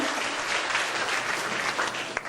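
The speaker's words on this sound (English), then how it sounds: "Palakpakan natin ang Panginoon." Sustained applause from a church congregation, dense steady clapping throughout at a moderate level.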